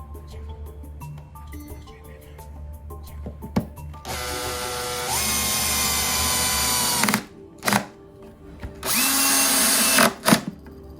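A power drill drives small screws into brackets on a 1920s mahogany Federal-style fold-top console table, its motor whining in several loud bursts separated by short pauses and quieter handling sounds, with some brief talk.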